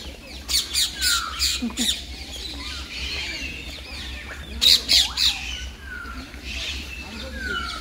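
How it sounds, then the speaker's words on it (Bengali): Parrots at a zoo and picnic park squawk in sharp bursts, a cluster of harsh calls early, then another loud group midway, with softer chirps and ambient chatter filling the gaps. "এখানে দেখো গাইস টিয়া পাখিগুলোকে খুব সামনে দিয়ে দেখা যাচ্ছে"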